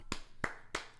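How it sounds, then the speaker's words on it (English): Three sharp, close hand claps spaced evenly within about a second, each a crisp isolated burst over a quiet background. "I give you a hand clap"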